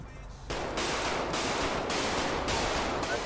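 A rapid burst of loud gunfire breaks out after a brief quieter moment, with several close, sharp shots repeating in quick succession over about three seconds.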